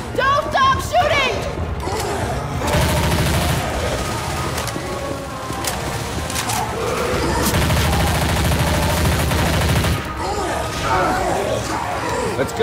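Loud, dense gunfire in the Left 4 Dead 2 campaign Whispers of Winter, rapid automatic bursts and heavy shots crowding the whole stretch, with game noise and shouting voices mixed in.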